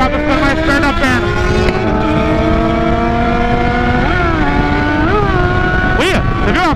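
A Yamaha Fazer 600 motorcycle engine revs loudly and steadily up close, its pitch rising and falling through a few throttle blips while riding, with no talk over it.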